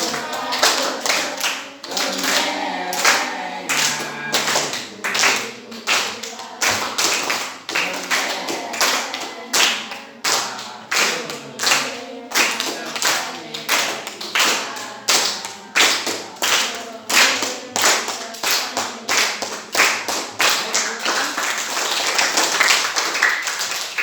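A group claps hands along in a steady rhythm, sharp slaps repeating evenly for the whole stretch, loud and close, with faint voices in the background.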